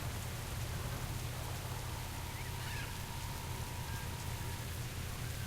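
Steady rain falls in a World of Warcraft game world, a continuous hiss of drops on surfaces at even loudness throughout, with a low hum underneath and no voices.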